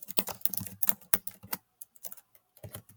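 Keystrokes on a Chromebook keyboard come in quick, uneven bursts of clicks, then a short pause before a few more taps, close and fairly loud.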